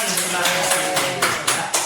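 An audience clapping at a school teachers' session, with a few quick rhythmic bursts of claps over a speaking voice.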